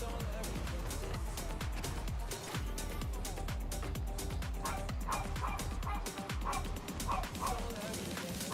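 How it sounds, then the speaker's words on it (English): A dog barks and yips repeatedly in quick, busy bursts, with occasional whimpers, loud and close throughout. "Sorry about the barking dog."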